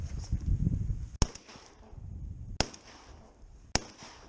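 Three sharp shotgun blasts fired at ducks over a flooded cornfield, spaced about a second apart and each cutting cleanly through low wind rumble, close and loud.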